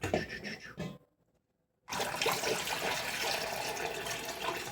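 Water splashes and gurgles briefly, stops for about a second, then resumes as a steady, close pour of hot water around jars.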